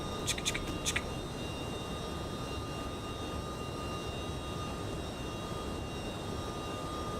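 Tri-jet engines of an MD-11 in the X-Plane flight simulator give a steady broadband roar with a constant tone above it and a few short high blips near the start.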